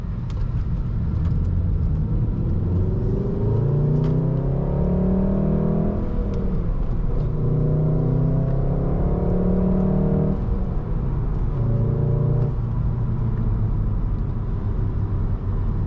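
A six-speed manual Volkswagen Golf R with all-wheel drive accelerates hard onto a highway, engine note climbing through rising sweeps with brief dips at gear changes, loud and continuous inside the cabin.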